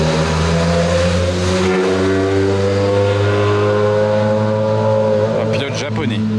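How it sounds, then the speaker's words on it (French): Rally cars on the Rally Monte-Carlo in Monaco passing close by, engines droning loudly and steadily with revving, while people talk over them. "il y a les voitures de rallye qui passent à côté"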